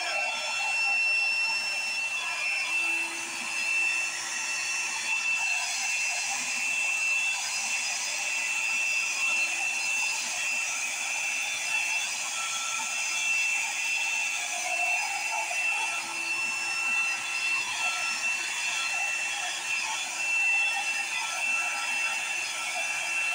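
A hair dryer blowing steadily to dry a paint pour, a continuous whirring whine with a strong tonal hum, holding even and close for over twenty seconds with no voices.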